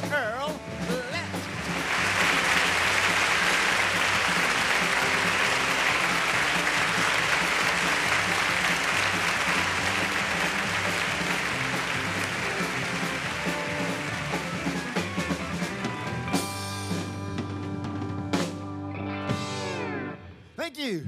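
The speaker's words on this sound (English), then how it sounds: "We appreciate the applause." A studio audience applauds as a talk show host is welcomed, a dense sustained roar of clapping that goes on for about fifteen seconds and then fades as a voice begins speaking.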